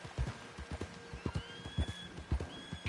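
Horse hooves clip-clopping steadily in Red Dead Online as the horse climbs up a mountainside, a clear rhythmic series of close, distinct hoof strikes with a faint whinny-like tone and no talk.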